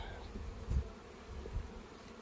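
Honeybees hum in a hive opened for an early spring inspection, a low, quiet buzz with a couple of slightly louder swells over about two seconds and no speech.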